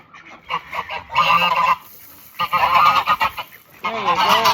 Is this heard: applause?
no